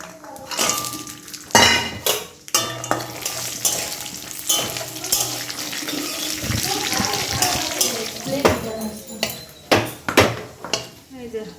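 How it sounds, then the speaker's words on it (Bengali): Cashews and raisins frying in ghee, a busy close mix of sizzling, stirring and repeated metal clanks of a spoon against the pan. "এই কাজু বাদাম কিশমিশগুলো এখন ঘিয়ের মধ্যে ভাজবো"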